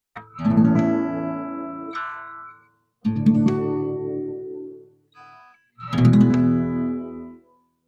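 Three strummed guitar chords in a I-IV-V progression, each ringing out and fading before the next, with short silences between.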